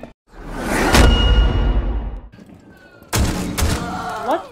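Frag grenade thrown in Rainbow Six Siege: a sharp whoosh and thud swelling into a loud rumbling blast that decays, a short lull, then a second heavy impact burst with a rising chirp, all close and loud.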